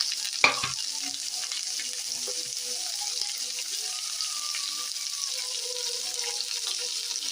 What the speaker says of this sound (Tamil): காயை சேர்த்து நல்லா கிண்டி விட்டுப்போம்.